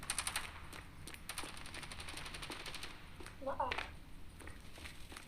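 Rapid bursts of automatic gunfire crackle through a Standoff 2 match after the bomb has been planted, several quick volleys at mid distance with a brief spoken voice underneath.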